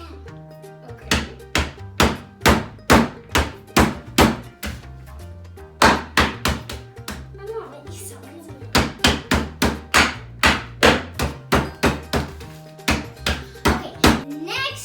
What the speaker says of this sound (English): First, we're gonna start banging the Oreos.